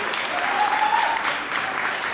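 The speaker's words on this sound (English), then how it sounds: "Yes, a big round of applause." A live podcast audience gives a round of applause, with steady, close clapping filling the short stretch and a faint voice or cheer underneath.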